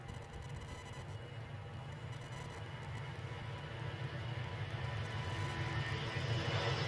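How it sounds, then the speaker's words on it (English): An ATR turboprop airliner moves at Edinburgh airport, producing a steady low engine drone that grows gradually louder over several seconds, heard without any talking. "I think we've got an ATR going somewhere, so let's lock you onto that."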